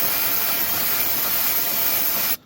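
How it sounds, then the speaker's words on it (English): A steady, forceful aerosol hiss of brake cleaner sprays continuously for a couple of seconds onto Toyota Camry rear brake parts, then cuts off abruptly. "spray it with some brake cleaner."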